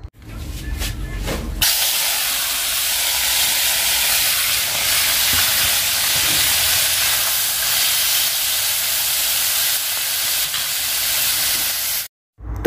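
Small fish fry in oil, giving a loud, steady, close hiss that holds evenly for several seconds before cutting off abruptly near the end.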